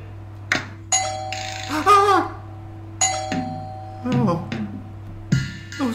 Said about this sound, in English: Somebody's ringing the bell.